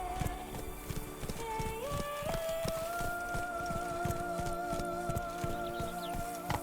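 Hoofbeats of the horse Roach in The Witcher 3 video game: a steady, close clip-clop of galloping hooves running throughout, with sustained musical tones layered over the rhythm.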